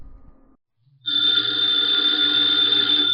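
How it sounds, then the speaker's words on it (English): A telephone bell rings loudly and continuously after a brief moment of silence, a bright, steady trill close by. "the ringing of that phone bell means mystery, adventure."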